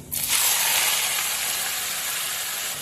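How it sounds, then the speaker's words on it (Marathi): Grated potato dropped into a pan of hot oil with crackling cumin seeds sets off a loud, steady sizzle that jumps up sharply after a brief quiet start and holds strong to the end, with no voices. "जिरे तडतडले की हा बटाट्याचा किस आपल्याला टाकायचा"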